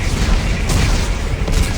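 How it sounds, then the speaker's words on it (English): Explosives detonate in the video game Dead Space 3, a loud, heavy booming rumble that rolls on steadily with low-end thuds throughout. "Computer, arm explosives. And detonate."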